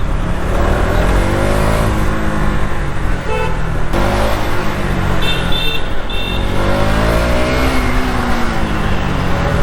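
A 2026 KTM Duke 200 single-cylinder motorcycle engine drones loudly while riding, its pitch rising and falling through gear changes, with wind rush and a couple of brief horn toots from nearby traffic.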